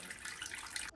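Water running from a tap for pretzel dough, a steady close hiss that cuts off abruptly near the end.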